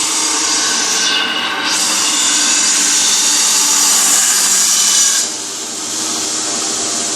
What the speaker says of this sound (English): He's sharpening this knife to where it's really sharp.